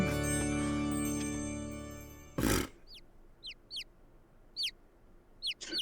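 Chickens cluck in a video game courtroom scene, first under a dense musical tone, then after a sharp burst come several short, bright chirpy clucks spaced irregularly.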